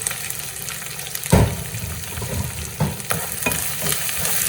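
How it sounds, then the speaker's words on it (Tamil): Ginger, green chilli, onion, garlic and curry leaves being stir-fried in a pan, a loud continuous sizzle broken by several scraping stirs of a spoon, close up and with no voices. "எல்லாத்தையும் போட்டு வடிவாக கிளறுவோம்"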